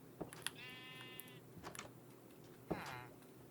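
Sheep in the video game Minecraft bleat twice, each a short wavering baa, over a faint background with small clicks and ticks.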